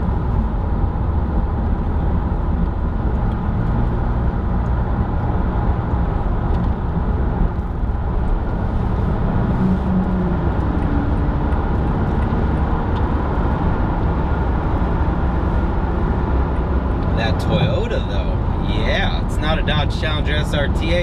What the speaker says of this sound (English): But it still gets up and zooms with its available 268 horsepower and a paddle shifter on paddle shifted V6.